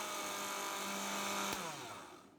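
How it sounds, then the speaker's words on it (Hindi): An electric kitchen grinder whirs steadily at high speed while grinding roasted chickpeas into powder, close and loud, then cuts off and spins down to a stop near the end, with no talk. "सबसे पहले हम भुने हुए चनों को ग्राइंडर में डाल के अच्छे से ग्राइंड कर लेंगे।"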